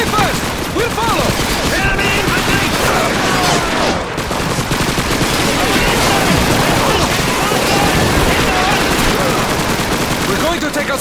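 Dense, continuous rifle and machine-gun fire from a Call of Duty 2 battle on Veteran difficulty, loud and close, rattling without pause, with shouted voices mixed in.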